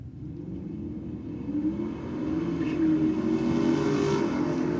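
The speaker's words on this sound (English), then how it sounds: "Bit of sideways action on the launch of the Commodore there" Drag racing cars launching at Sydney Dragway, among them a Commodore, heard as a distant engine roar that builds and holds over a low rumble, fairly faint and without voices.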